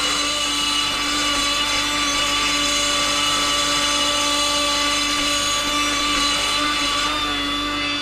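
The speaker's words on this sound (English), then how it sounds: "I'm just going to grind this part of the head away, because that's where the crack is as well" A power grinder steadily grinds away metal on a cracked BMW cylinder head, making a continuous high whine at close range for the whole stretch.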